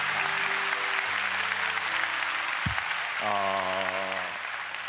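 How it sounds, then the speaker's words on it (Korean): A church audience applauds throughout, steady dense clapping close by, while a sustained organ or keyboard chord rings underneath and a brief thump cuts through midway. "우리 큰 박수로 격려하고 축복했으면 좋겠습니다"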